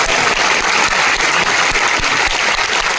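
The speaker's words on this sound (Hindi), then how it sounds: "ताली बजाने का मौका मिल रहा है" A seminar audience at an RCM business event in Ludhiana claps, filling the room with loud, dense, continuous applause that stays even from start to finish.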